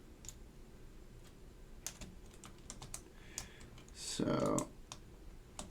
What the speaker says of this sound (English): I just want to get some perimeter keycaps on here